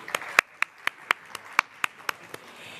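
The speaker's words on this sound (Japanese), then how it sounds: "どうぞ皆様大きな拍手でお送りください。" Scattered claps from a symposium audience on energy policy in Japan, about a dozen sharp separate hand claps in an uneven rhythm, fairly faint and sparse rather than a full ovation.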